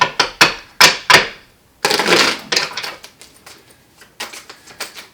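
Tarot cards being shuffled by hand in a series of sharp riffling bursts and slaps, close and crisp, with short pauses between shuffles and no talking.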